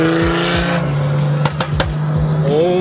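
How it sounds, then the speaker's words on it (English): A loud BMW 335i engine revs hard up close on a street, its pitch sweeping up and down in quick bursts with a few sharp pops, the roar continuous throughout. "listen to how loud Shane's car is."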